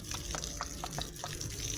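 Hot water splashing and running from a rooftop tap in summer heat, a steady wash of liquid noise with small irregular splashes, close by and alone.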